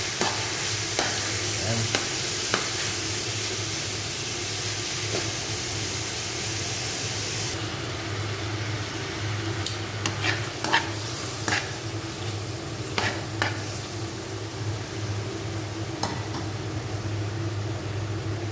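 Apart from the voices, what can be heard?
sautéing beef in a pan for menudo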